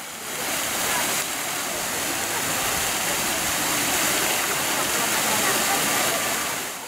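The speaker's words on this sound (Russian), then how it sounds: "Ну и конечно же, мини-водопад." Small waterfall with water rushing steadily, a dense, continuous close-up roar that stays even in loudness throughout, with no voices.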